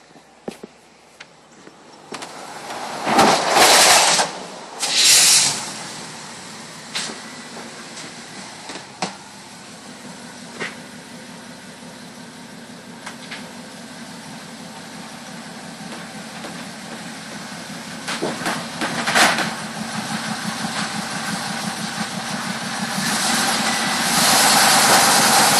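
A 1934 Mercedes-Benz 500K remake being pulled into a transport trailer, with a low engine rumble, loud mechanical bursts and clanks early on, then a steadier droning that builds toward the end.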